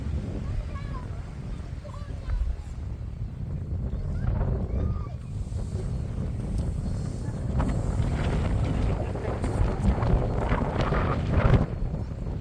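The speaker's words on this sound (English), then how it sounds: "Fair breeze blowing into here, isn't there?" Steady wind gusts buffet the microphone in a tiny harbour at Looe, with low rumbling and faint water movement beneath occasional talk.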